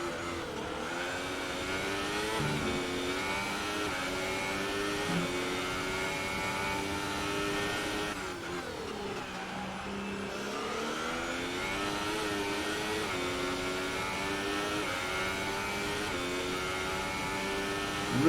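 Race cars in online sim racing, engines droning steadily with rising and falling revs as they shift gears, a continuous mid-pitched whine with no talk over it.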